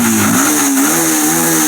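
Yamaha R15 V1 motorcycle, a 2019 single-owner bike with 25,000 km, revving steadily with a buzzing engine note that rises and holds, close and loud, with no talk.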